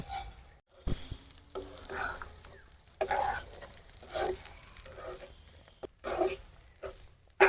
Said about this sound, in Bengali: তো এখন আমরা চাউলগুলো ভালো করে ভেজে নেব